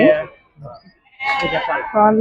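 Sheep bleat in wavering calls at a livestock market in Gudur, one at the start and a louder, longer one toward the end, heard close by with a brief quiet gap between.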